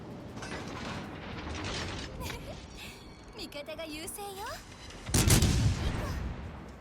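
Naval gunfire in World of Warships: Legends, with a heavy shell salvo booming near the end over mechanical clicks and game effects, while a voice talks through most of the clip.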